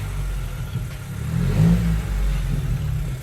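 A Chrysler 300 with a Redeye engine swap revs nearby, a deep low rumble swelling to a louder peak midway before settling into a steady throaty drone, with no talking.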